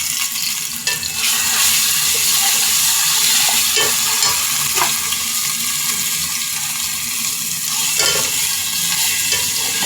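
Ginger garlic paste frying with browned onions in a pan, a steady loud sizzle with occasional scraping stirs throughout.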